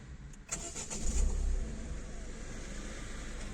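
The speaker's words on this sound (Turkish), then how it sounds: "Frene basıp tekrar çalıştıralım." A 2017 Peugeot 301 fitted with a start-stop button cranks briefly and fires up, then settles into a steady, moderately loud idle heard from close by.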